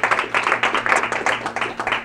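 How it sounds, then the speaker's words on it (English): Applause for the panelists at the close of a panel discussion on Africa and the Global Arms Trade Treaty, close, fairly loud clapping from a small group in a quick uneven rhythm. "I think we can all applaud the panelists."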